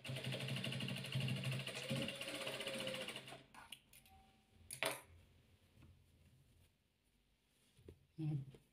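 Sewing machine stitching fabric pieces of a soft 3D ball together, with a rapid mechanical whirring run for about three seconds, then quieter handling clicks and brief bursts of stitching.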